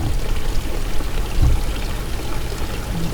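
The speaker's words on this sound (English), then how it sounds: "You just drop it right into the water and it'll root." Tomato sucker cutting dropped into a container of water while pruning tomato plants, giving a brief soft splash and watery pour-like rush over steady low background noise, with no talk.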